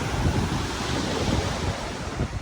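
Steady roar of sea waves mixed with heavy wind buffeting the microphone at a green seaside spot facing the water, loud and continuous with no voices.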